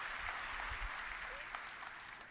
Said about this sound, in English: Deserve a hand of applause.